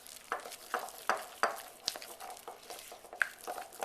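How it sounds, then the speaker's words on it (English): A spoon stirs cinnamon roll icing in a bowl with soft, rhythmic scraping strokes, about two or three a second, quiet and close with no voices. "Just stir it until it's smooth."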